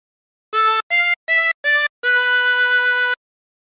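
A 24-hole tremolo harmonica plays a Jingle Bells phrase alone and close, with four short separate notes followed by one longer held note.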